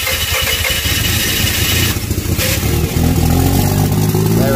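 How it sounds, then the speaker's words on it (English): Used Mazda RX8 rotary engine, flooded and with its exhaust disconnected, cranking and catching into a loud, rough, continuous roar close by with no talking. "Let's try to get it running."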